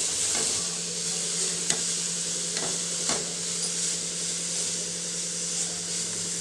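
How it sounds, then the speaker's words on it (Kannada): Grated carrots being stirred in hot ghee for carrot halwa, a steady sizzle and fry with scraping stir strokes and a few sharp spoon clicks against the pan, close and continuous with no talking. "ಈಗ ತುಪ್ಪದಲ್ಲಿ ಇದು ಕ್ಯಾರೆಟನ್ನು ಚೆನ್ನಾಗಿ ಮಿಕ್ಸ್ ಮಾಡ್ಕೊಳ್ತೀನಿ"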